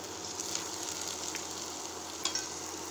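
Anise seeds, poppy seeds and cinnamon pieces frying in hot oil give a steady, close sizzle with a few faint crackles and stirring scrapes, no voices.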